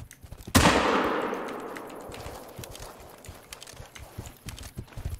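A single loud, sharp rifle shot rings out in the video game theHunter: Call of the Wild, with a long decaying tail, followed by faint rumbling and clicks in the background.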